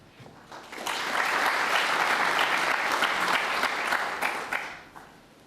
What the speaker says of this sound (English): Oohs and ahs from the Crucible crowd